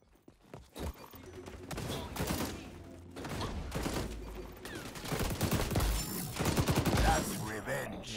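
Rapid bursts of AK-47 rifle fire in the shooter game XDefiant, crackling in repeated volleys with brief gaps and footsteps between, loud and close.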